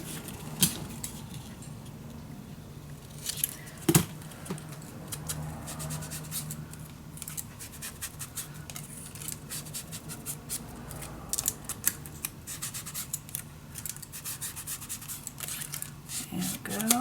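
Scissors snip through paper and card for a cozy winter-themed mini album, giving quiet, close rustling cuts with a few sharper snips and handling sounds.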